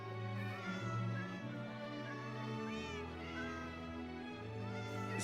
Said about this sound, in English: The moment I load in, I just hear all of them meow at the exact same time.